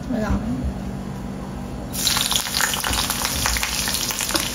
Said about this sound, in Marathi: आपण तव्यामध्ये इथे तेल गरम करत ठेवलंय, तेल चांगलं गरम पण झालंय। आता आपल्याला जेवढं तिखट हवं तेवढा आपण मिरच्या टाकणार आहे